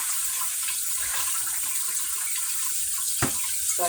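Salad leaves and cut yellow peppers and onions rinsed under a cold kitchen tap, a steady close hiss of running water into a sink with one brief splash near the end and no voices.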